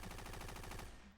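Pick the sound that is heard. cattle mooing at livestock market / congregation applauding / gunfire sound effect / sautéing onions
gunfire sound effect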